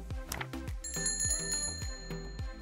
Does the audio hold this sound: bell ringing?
yes